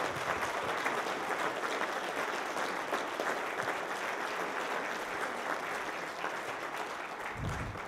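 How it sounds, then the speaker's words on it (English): Audience applause for speakers at a panel event, a sustained wash of many hands clapping through the room at steady, moderate loudness without talk. "I give these gentlemen applause up here."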